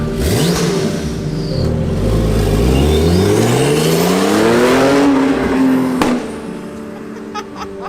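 A car engine revs hard and loud, pitch climbing steadily over several seconds with a turbo whistle, then drops off sharply and settles to a rumbling idle.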